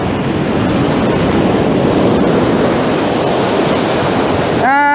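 Sea waves wash in over the rocky Northumberland coast on an incoming tide, a loud, unbroken hiss and rumble of surf. A short electronic warbling tone cuts in at the very end.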